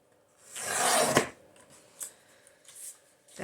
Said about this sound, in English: I'm going to cut right on the fold, so the fold kind of fits right there where I need to cut on this paper cutter.